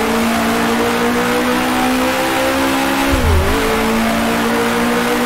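A 1966 Formula One race car engine in Grand Prix Legends holds a loud, steady high drone, dipping briefly as the revs fall and then climbing again, with no talk over it.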